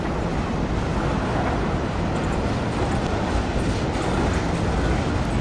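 A steady, loud rumble and roar of a passing freight train with log flatcars runs throughout, with a continuous rushing broadband noise and no voices.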